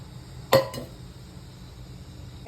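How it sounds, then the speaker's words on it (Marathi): A single sharp clink and a brief sizzle as oil hits a hot kadai on the stove, followed by a quiet kitchen hum with no talk. "आता कढईमध्ये तेल टाकायचं"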